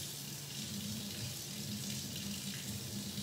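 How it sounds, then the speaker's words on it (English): Water runs steadily from a kitchen tap into a sink, a continuous close hiss and splash with no speech. "You're gonna hear my water turn on."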